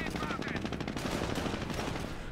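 Jeep machine gun fire in Company of Heroes, raking a Panzer Grenadier squad: dense, continuous rattling bursts with game battle noise and a faint voice underneath, loud and steady throughout.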